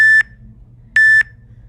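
An interval timer for a HIIT workout emits two identical sharp electronic beeps, each about a quarter second long, spaced under a second apart, clear and alone against a quiet room.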